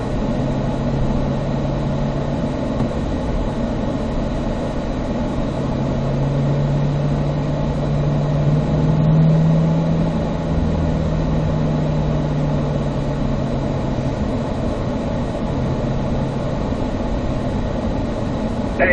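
Race car on a cool-down lap at Spring Mountain North Course, heard from inside as a steady, even engine drone with a low sustained hum and gentle pitch shifts, no talk.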